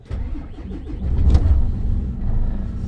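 A truck engine with 351,000 km on it cranks and catches, settling into a steady low rumble that swells slightly before holding an even idle; no voices.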